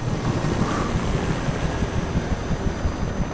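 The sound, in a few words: helicopter in the video game Alan Wake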